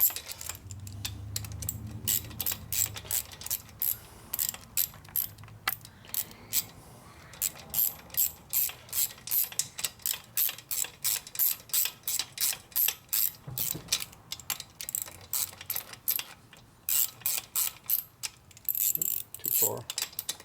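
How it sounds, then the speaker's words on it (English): Rapid ratchet clicks in steady bursts as a socket wrench turns a bolt on a 1972 Harley FLH 98ci shovelhead stroker motor during a rebuild, close and fairly loud, with short pauses between runs of clicking. "Once you get a socket on here and a ratchet, it goes a lot quicker."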